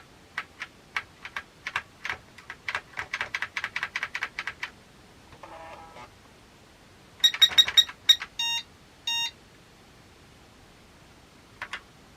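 Someone types on the keyboard of an ACT 386sx portable computer from Arima, a close run of sharp, irregular clacks with the keyboard not fully working, followed by a burst of rapid electronic beeps and a final pair of taps.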